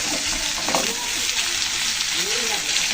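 Prawns and potatoes fry in a pan with a steady hiss and bubbling, stirred occasionally, while a voice talks over the sizzle.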